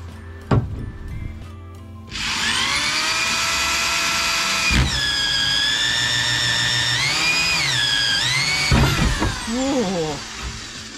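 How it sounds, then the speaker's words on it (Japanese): A power drill bores a hole during the restoration of a MAX IV amphibious vehicle, with a loud, close, continuous motor whine that rises and bends in pitch as it cuts, plus a few knocks before and after. "ここ中心に穴を開ければいいね。"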